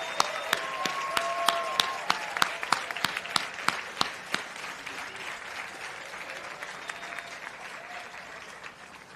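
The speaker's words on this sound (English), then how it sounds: "let's give them a round of applause." A crowd applauds steadily at a white coat ceremony, with sharp individual claps standing out early, the clapping gradually thinning and fading toward the end.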